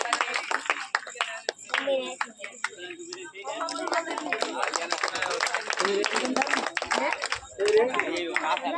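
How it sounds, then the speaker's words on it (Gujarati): Crowd clapping along in rhythm at a village Ganesh festival garba, steady sharp hand claps filling the clip while someone talks over them loudly. "હાલો તાળીઓ પાડો બધા. એના બાપ એમ તાળીઓ પાડતા જાઓ."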